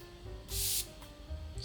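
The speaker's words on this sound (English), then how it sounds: "I'm going to spray it right here. The atomizer is super nice" A pressurized atomizer sprays Al Haramain Detour Noir fragrance in one loud, close hiss lasting about a third of a second, with a faint second puff just after, against a quiet room.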